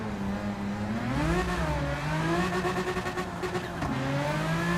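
A race car engine in Gran Turismo 7 revs and climbs through the gears, its loud tonal whine rising and dropping with each shift, heard alone without talk.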